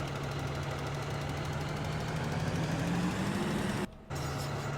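Tractor engine in Farming Simulator 2013 running at a steady low chug after starting, a constant idling drone with a brief dropout near the end.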